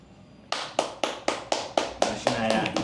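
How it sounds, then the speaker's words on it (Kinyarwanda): A slow, rhythmic run of single hand claps, about nine evenly spaced loud smacks in a row, close and clear, with a low voice faintly underneath near the end. "amashyi"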